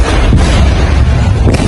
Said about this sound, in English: It appears this was an explosion caused by a severe accident.